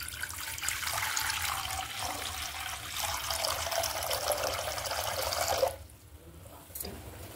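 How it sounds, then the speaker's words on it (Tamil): Water poured into a kadai on a home kitchen stove, a steady splashing rush for several seconds that stops abruptly, followed by brief faint drips and quiet. "ஒரு கடாய் வச்சு அதுல கொஞ்சம் தண்ணி ஊற்றிக்கணும்."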